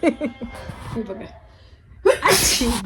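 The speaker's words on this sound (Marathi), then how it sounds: "ती कंटिन्यू शिंकतीये" A woman's sharp, close sneeze bursts out after a few quiet vocal sounds, loud and sudden against an otherwise soft background.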